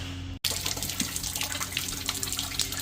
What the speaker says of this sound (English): It's dripping.